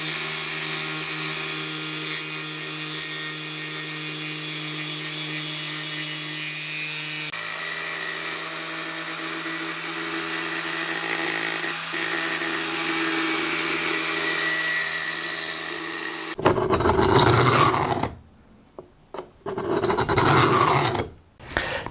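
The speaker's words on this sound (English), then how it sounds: "Now, after much more grinding, this is what I've ended up with." Steady abrasive grinding on an axe blade made from an ice skate, loud and continuous for most of the span, then breaking into a few short separated bursts near the end.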